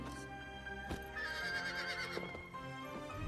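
A horse in The Legend of Zelda: Breath of the Wild neighs loudly and close, a long wavering whinny over a bed of game music and ambience, with a short thump partway through.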